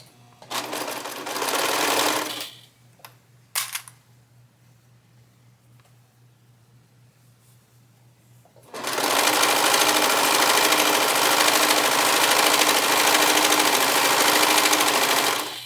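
A sewing machine stitches biking shorts, first in a short burst of about two seconds, then after a pause with a few clicks, a long, steady, loud run of whirring stitches.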